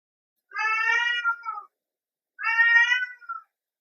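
A pet cat lets out two loud, drawn-out screaming meows close to the microphone, each about a second long, separated by a short silence.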